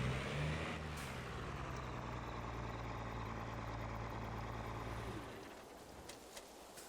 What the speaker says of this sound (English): I just love hearing the sound of this truck.